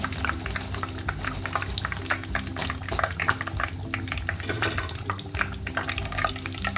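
Samosa pinwheels of vegetables and flour dough fry in hot oil, a continuous close crackling sizzle with dense, even popping throughout and no voices.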